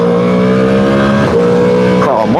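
A motorcycle engine revs hard in first gear, a loud close whine climbing in pitch, with brief dips and rises as the throttle shifts near the end, while a person talks over it.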